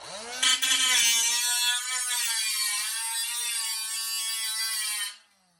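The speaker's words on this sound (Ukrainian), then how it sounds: "тепер пробіжимося з болгаркою" A high, whining angle grinder grinds steadily on steel for several seconds after a brief rough start, then winds down and stops.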